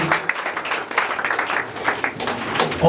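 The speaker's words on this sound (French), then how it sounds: "On applaudit s'il vous plaît" An audience applauds at a 40th anniversary celebration in a church. The clapping is steady and dense throughout, close and fairly loud, with no break.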